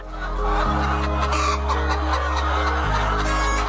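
Chickens clucking inside a coop at a poultry house in Yogyakarta, Indonesia, a dense steady chorus of close hen calls over a constant low machine hum, no talking.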